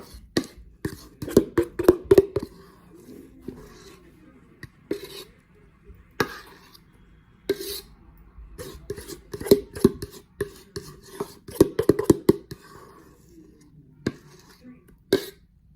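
Banana bread batter is dumped into a pan over brown sugar and butter, then scraped out with scattered clicks, taps and short scraping strokes, close and fairly loud, with quiet pauses between.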